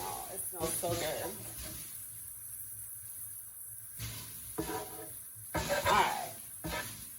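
Garlic butter chicken sizzles in a frying pan, with intermittent crackling, hissing bursts between quieter gaps, close by, while a person talks over it.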